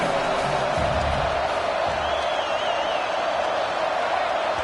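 Dense roar of a packed college football stadium crowd at a West Virginia Mountaineers game, sustained and loud throughout as fans noisily rattle the offense into a false start.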